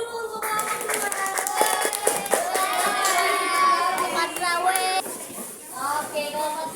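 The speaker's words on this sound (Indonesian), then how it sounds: "kasih tepuk tangan dulu untuk kelompok 2" Primary school children in a fourth-grade classroom clap for a group after a science activity, scattered hand claps mixed with loud children's voices and chatter.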